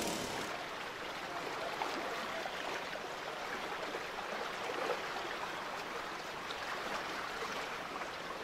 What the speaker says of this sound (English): the creek's been flooding a lot, so we've had water rising a lot